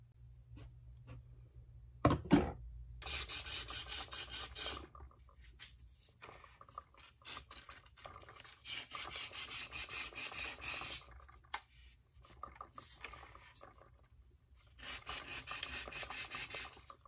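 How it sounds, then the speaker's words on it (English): Sandpaper of 100 grit rasping along the cut edge of a carbon steer tube on an Enve carbon mountain fork, close and fairly loud, in repeated back-and-forth bursts with short pauses and a brief knock near the start. "Envy recommends 100 grit sandpaper for sanding down the edges."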